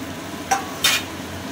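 Potatoes and fried onion with Kashmiri chilli powder and garam masala sautéed in a pan for Bhola fish curry, two brief scraping stir strokes over a faint low sizzle, close by, no voices.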